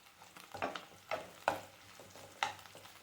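Boiled potato being sautéed and stirred in a pan for sabudana khichdi: soft, close stirring scrapes and light sizzling bursts in an irregular rhythm, fairly quiet, with no speech.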